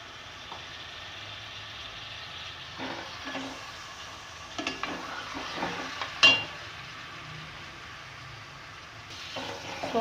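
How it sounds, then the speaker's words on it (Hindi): Beef pieces frying in cooking oil for nihari, a steady quiet sizzle with occasional stirring scrapes and clinks of a spoon in the pot, no talking. "और इसे मैं बहुत अच्छी तरह भूनूंगी गोश्त को।"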